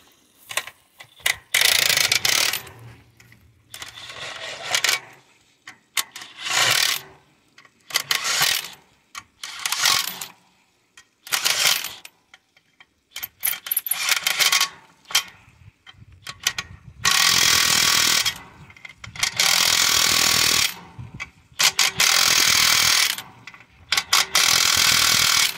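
While a tire is being changed, a ratchet tightens wheel nuts in repeated bursts of rapid, loud clicking, separated by short pauses, with some handling noise in between.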